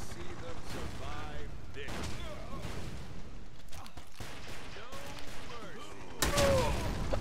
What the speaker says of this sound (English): Oh man, I got sniped again